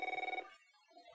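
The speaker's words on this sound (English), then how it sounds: "Alright, phone is ringing." A telephone rings inside a VR escape room video game: a short, loud electronic trill of rapid pulses that stops after a fraction of a second, followed by quiet, faint background tones.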